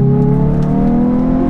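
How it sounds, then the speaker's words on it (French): A Hyundai i20N engine revs steadily under acceleration with traction and stability control switched off, a loud, sustained rising drone with strong harmonics running through the whole stretch, close by and with no talk over it. "le moteur il met du temps à monter dans les tours"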